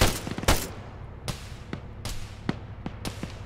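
Video game gunfire: a handful of sharp separate shots and short bursts over about three seconds, spaced irregularly and moderately close, with no talking.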